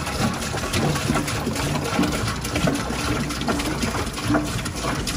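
Fresh tap water pours into a saltwater reef fish tank, a steady close gushing and splashing that runs without pause for the few seconds.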